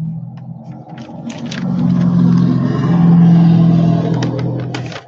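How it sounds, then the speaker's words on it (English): Hot rod or motorcycle engine revving in a neighborhood, heard through an open window: a low rumbling motor that swells in two rising surges, moderately loud and somewhat distant, with a few faint clicks over it. "We have a lot of hot rods and motorcycles in this neighborhood"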